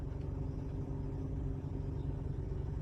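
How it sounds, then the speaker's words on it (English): A truck rumbles steadily near a forest campsite, a low, continuous engine drone that stays even and fairly faint throughout, with no voices. "Wait, is that the truck again?"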